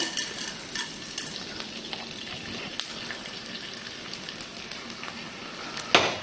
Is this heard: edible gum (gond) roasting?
yes